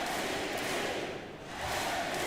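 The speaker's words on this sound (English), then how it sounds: "And you can hear the crowd right now" Dense crowd roar fills a basketball arena after a made free throw, a steady broadband swell that dips briefly midway and then rises again, with no distinct voices standing out.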